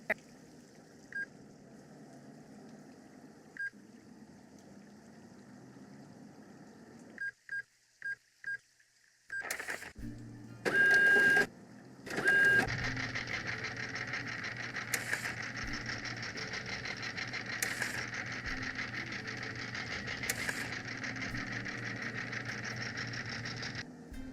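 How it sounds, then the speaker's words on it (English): A plotter in the Nancy Drew game Danger by Design runs with a steady mechanical whir and hum, broken by a few sharp clicks and beeps before the motor noise settles into a continuous drone. "That's the plotter."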